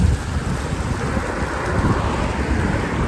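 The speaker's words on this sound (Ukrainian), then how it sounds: "Ох і вітер який страшне. Ганяє листя." Strong wind roars steadily with a broad rushing hiss and low buffeting rumble, blowing leaves about, continuous throughout with no voices.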